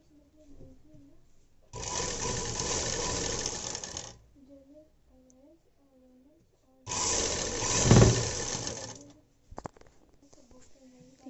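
A sewing machine stitches baby gown fabric in two steady, buzzing runs of a couple of seconds each, separated by a pause, with someone speaking in the quieter gaps.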